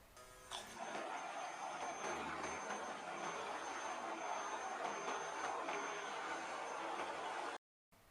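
A blender whirs steadily, blending potato and leek soup with cream into a smooth vichyssoise, a loud continuous motor roar with the dense liquid churning, then abruptly cutting off at the end; no one speaks.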